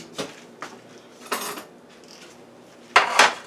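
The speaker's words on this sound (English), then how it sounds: "I'm just going to spread it around so that it's all over the pan." A utensil scrapes and clinks against a baking pan while spreading seafood stuffing for a scallop casserole, in several short, irregular bursts that grow louder at the end.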